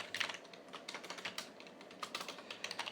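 Code is typed on a computer keyboard in quick, irregular, close key clicks running steadily at a soft level, with no voice.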